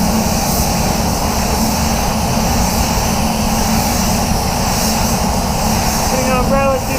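Spray gun atomizing paint finely over a blend section during a paint job, producing a loud, steady broadband hiss that runs unbroken through the whole stretch.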